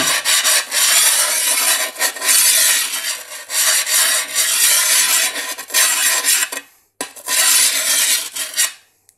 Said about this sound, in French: On va poncer, il n'y a pas besoin d'y aller non plus comme un sauvage. Juste ce qu'il faut ici.